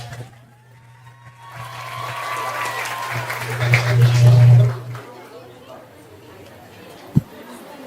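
An audience at a school podcast recording claps, building from scattered claps into several seconds of steady applause, then tapering off, with chatter and a low hum underneath.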